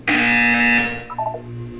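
A loud electronic buzzer from the video game Portal 2 blares steadily for about a second, then drops into a short, quieter wavering tone, heard alone with no voices.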